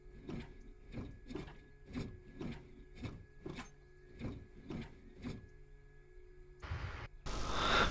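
Engine primer pumped by hand in a flight simulator cockpit, about ten steady mechanical strokes roughly half a second apart, close and even, followed by a brief burst of different noise.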